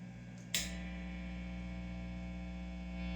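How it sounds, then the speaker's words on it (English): Steady electric hum from a PRS SE Custom 24 guitar with its humbucker pickup split to single coil, a constant low buzzing drone with harmonics after a brief click, continuing alone throughout. "you can hear there's a lot of humming"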